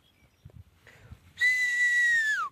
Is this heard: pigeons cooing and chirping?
no